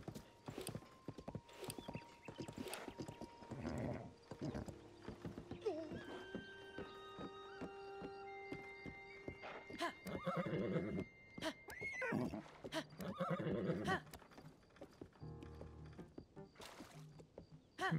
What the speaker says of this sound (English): This is my new horse.